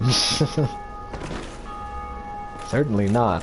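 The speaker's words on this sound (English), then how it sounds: "you can hear the bells going off" Bells chime in the Dark Souls video game, steady sustained tones ringing behind the mix while a voice talks at the start and end.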